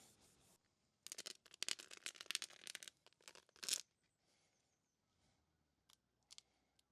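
Adhesive tape being cut to length for joints on a wooden deck of an octagonal gazebo, heard as short crisp snipping and tearing bursts in a few clusters, close and fairly quiet, with no talk.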